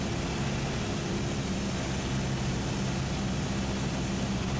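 A Cessna 172SP engine drones steadily at full power during its takeoff roll. The propeller roar is loud and constant, filling the whole stretch with broadband noise and no pauses.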